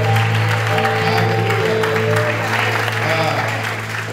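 Church congregation applauding, a steady wash of clapping filling the hall throughout, with a loud voice speaking over it and a low sustained tone underneath.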